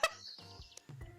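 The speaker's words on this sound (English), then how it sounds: "Hello, bird." A chicken clucks in a few short bursts, close and fairly faint, with no talk over it.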